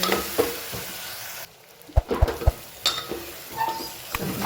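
Spices stirred into a dish frying in a pan give a soft sizzle with scraping, clinking utensil strikes against the pan, a brief quieter gap, then more stirring knocks.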